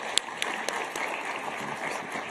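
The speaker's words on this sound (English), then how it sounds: "Please help me give a round of applause to our panelists." Audience applause for the panelists at an agriculture finance session in an auditorium, a steady clatter of many hands with a few sharper claps near the start, fairly even and moderately loud throughout.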